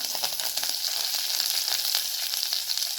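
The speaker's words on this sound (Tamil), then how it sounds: "நல்லா கொஞ்சம் வதக்கிட்டு இப்போ கடுகு வெந்தயம் சீரகம்லாம் நல்லா வதங்கிடுச்சு" Mustard seeds, fenugreek, cumin and dried red chillies fry in hot oil for sambar, making a continuous dense close sizzle with light crackling and no pauses.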